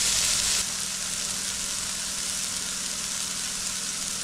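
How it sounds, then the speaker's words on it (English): Onions frying in butter and oil for a stroganoff, giving a steady, loud, close sizzle with a brief louder burst at the start, no voices. "we're now just going to fry off these onions"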